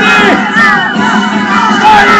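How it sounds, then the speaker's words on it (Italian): Crowd of children cheering and shouting loudly together in support of a knight puppet during an Italian puppet show, a close, continuous burst of excited voices. "E voi bambini, siete pronti per il tifo? Per Orlando o per Agricane?"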